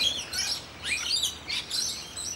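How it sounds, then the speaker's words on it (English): Birds chirp and tweet in repeated bursts of bright, high calls at a bird sanctuary in Brisbane on a rainy day, fairly close and clear with no voices. "I'll show you the birds."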